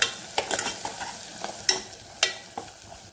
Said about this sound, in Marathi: ते सगळं साहित्य भाजलेलं आहे आणि परतून घ्यायचं